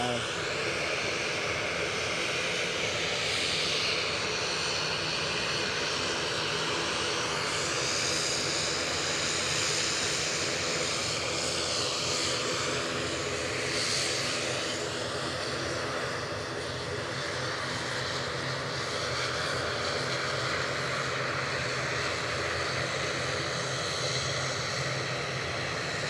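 A fixed-wing airliner at Edinburgh Airport produces a steady, loud jet engine roar that holds without a break, with people talking faintly underneath.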